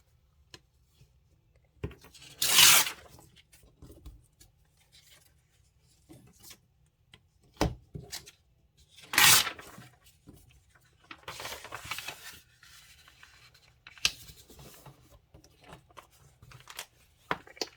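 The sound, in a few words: paper bag being cut down for a journal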